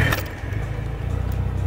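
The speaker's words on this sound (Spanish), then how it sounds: "clutch freno y giramos la llave hacia el motor" A manual-transmission car engine starts with the key, a short burst at ignition settling into a steady, low, close idle rumble, with no talking.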